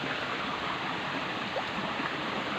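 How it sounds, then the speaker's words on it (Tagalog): A fast-flowing stream used for washing laundry rushes in a steady broadband gurgle and hiss, continuous and fairly close, with no voices. "Ito pala yung isang sapa guys na labahan."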